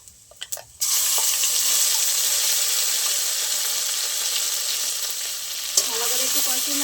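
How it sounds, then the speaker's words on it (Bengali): Ground spice paste hits mustard oil already tempered with dried red chillies and whole cumin, bursting into a loud, close, steady sizzle after a few light clinks, with a brief clatter near the end. "ফোড়নটা ভালো ভাজা হয়ে গেছে, বেটে রাখা মশলাটা দিয়ে দেবো আমি।"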